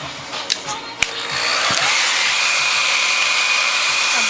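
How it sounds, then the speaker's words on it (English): A hair dryer blows on a freshly printed graphic T-shirt, starting with a few clicks and handling noises, then settling into a steady, loud, close whoosh that continues to the end. "I blow dry it so the letters will dry pretty fast"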